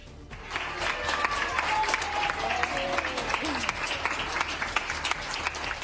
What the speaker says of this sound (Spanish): Entre aplausos